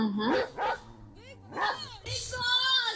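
A dog inside the Bigg Boss 9 house barks in a few quick bursts, loud and near, mixed with voices and other background sounds.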